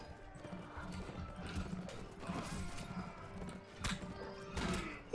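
A horse gallops and whinnies in the Mount and Blade: Warband video game, hoofbeats clattering over busy battle noise with a couple of sharp impacts.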